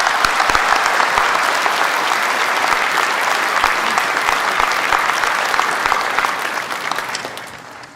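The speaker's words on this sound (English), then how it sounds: "Please join me in giving a round of applause to our PharmD Dental Hygiene and Dentistry graduates." A large convocation audience applauds graduating pharmacy, dental hygiene and dentistry students with loud, dense, sustained clapping that fills a big hall and tapers off slightly toward the end.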